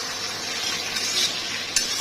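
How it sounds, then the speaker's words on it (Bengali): Oil sizzles and crackles steadily as potatoes with salt and turmeric fry in a pan, with a brief metallic clink of a utensil near the end. "এবার আলুগুলোকে লাল লাল করে ভেজে তুলে নেব"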